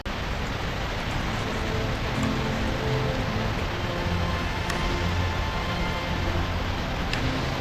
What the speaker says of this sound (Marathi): खूप जोराचा पाऊस यायला लागलाय